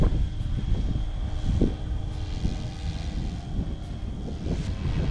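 SAB Goblin 380 RC helicopter flying outdoors on a breezy day, a steady loud rotor and motor roar with some wind buffeting on the microphone.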